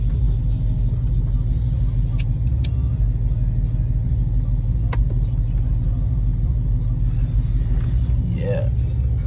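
Dodge Hellcat cruising through the city in sport mode, a steady deep engine rumble from inside the car with someone talking over it.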